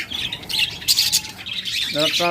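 Pet budgerigars squawking and chattering close by in a cage, with rapid repeated harsh calls near the end, under someone speaking.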